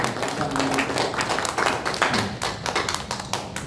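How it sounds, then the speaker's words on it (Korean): A church congregation at a women's mission worship service claps to welcome a missionary pastor and his wife. Dense, close applause with many sharp hand claps holds steady and loud throughout. "두 분 일어서시면 우리 환영의 박수 감사합니다."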